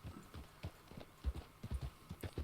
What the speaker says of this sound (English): Jeez, look at that horse.